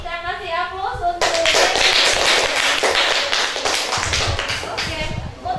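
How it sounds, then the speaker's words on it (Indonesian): Classroom applause from a group of students, bursting in after a brief spoken line and continuing as a dense, energetic clatter of many hands that tapers toward the end. "Oke, kita kasih aplaus untuk."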